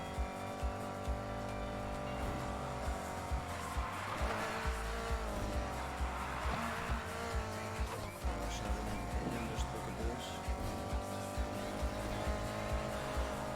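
Cars racing and drifting in Need for Speed Heat, with a loud continuous engine roar, tire squeal and rising and falling revs under game music; no talk.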